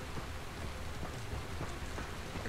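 Heavy rain pours steadily during a lightning storm in the Dying Light video game, a dense continuous hiss with no breaks.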